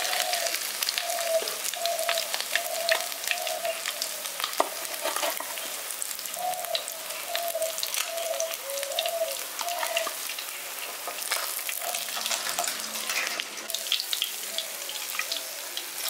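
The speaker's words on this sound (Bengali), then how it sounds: "বাকি যে মাছটা আছে সেটাও ভেজে নিচ্ছি।" Pabda fish frying in hot oil for a village-style dahi pabda curry, giving a steady, fairly loud crackling sizzle throughout with faint scraping now and then and no talking.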